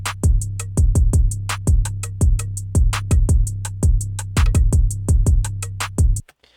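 Deep 808 bass shaped with EQ filters and saturation distortion plays a repeating pattern of gliding low notes under crisp, steady hi-hat clicks and snappy hits, loud and upfront, then cuts off abruptly near the end.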